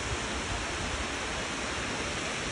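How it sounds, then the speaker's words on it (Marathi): A river rushes beneath a suspension bridge in Germany's Black Forest, making a dense, continuous roar of flowing water that stays even and loud throughout, with no voices. "पुलाच्या खाली वाहणाऱ्या नदीचे दृश्य आपण पाहू शकता।"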